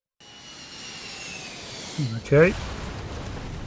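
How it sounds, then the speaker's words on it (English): Steady jet-engine roar of an airplane in a video game, droning continuously at moderate level with a brief swelling burst near the end as it crashes, while a voice speaks briefly over it. "Aeroplane crashed."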